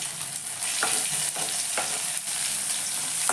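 Cumin, ginger, garlic and green chili fry in a pan with a steady close sizzle, punctuated by a few soft stirring scrapes.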